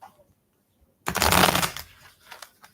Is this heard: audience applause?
no